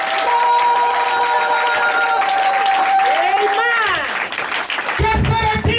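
A church congregation breaks into applause for Jesus Christ, a broad wash of clapping and cheering that fills the room. A preacher's sustained, sung-out voice carries over it, and a louder voice cuts in near the end.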